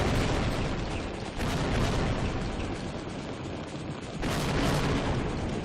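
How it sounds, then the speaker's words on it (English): Loud rumbling blasts from Half-Life on PlayStation 2 as an enemy tank is blown up by rocket launcher hits, a sustained roar with fresh bursts near the start and again toward the end. "Should be easy to blow that thing up, and there it goes."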